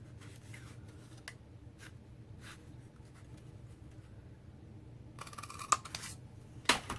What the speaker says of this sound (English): I thought I would cut out the end with my Pick-a-Punch